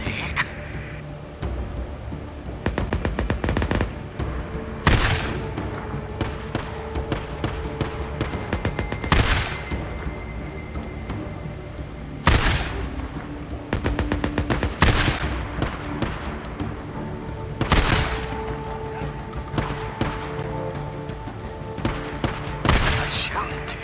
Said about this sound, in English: Nice shooting, Take.